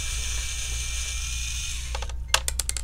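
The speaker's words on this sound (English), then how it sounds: "Rather than using the regular screwdriver, having an electric screwdriver is a lot easier." Electric screwdriver backing screws out of an Acer Aspire C27 all-in-one during a teardown, a steady motor hum and whine followed by quick ratcheting clicks and rattles near the end.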